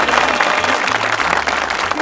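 A studio audience at a Peruvian comedy show applauds the people of the north, a loud, dense burst of clapping filling the short moment with low musical tones underneath.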